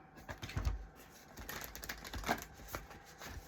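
A deck of oracle cards is shuffled by hand, making soft, close riffling and tapping sounds in short uneven bursts, quiet and with no talking.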